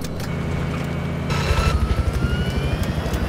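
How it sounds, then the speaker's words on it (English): A transport helicopter in Battlefield 4, its rotor thumping rhythmically and growing louder midway over a steady engine roar amid game noise. "Okay, I've got the transport chopper."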